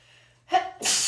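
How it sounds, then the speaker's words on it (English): A single close, loud sneeze: a short indrawn breath followed by a sharp, bright burst and a rushing hiss of air, with nothing else around it. "already feeling sneezes coming on"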